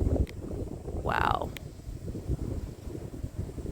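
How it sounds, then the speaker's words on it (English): Strong outdoor wind buffets the microphone with a constant low rumble throughout. A person makes a brief exclamation and a short bird-like call rises over the noise. "You have to excuse the wind. It's really windy out here."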